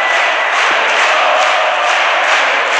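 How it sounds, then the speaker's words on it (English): Darts crowd at the German Darts Championships cheering and roaring loudly and steadily throughout, a dense continuous wall of voices with no break. "I think the crowd have been woken up and they've been treated to something really sensational."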